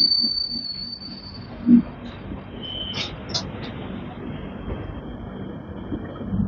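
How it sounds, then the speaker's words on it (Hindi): A train rolls over the Nagpur diamond railway crossing, a steady rumble of wheels on track with a brief clunk and faint metallic squeals, heard from on board. "यहाँ पर आपकी नागपुर की मशहूर डायमंड क्रॉसिंग से हमारी ट्रेन जा रही है"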